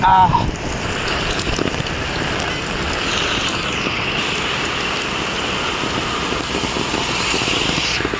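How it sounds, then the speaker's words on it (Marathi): Heavy rain falls in a steady, dense roar, loud and close throughout, with a brief louder splash at the start. "काय यार भाई जोरात पाऊस पडतो"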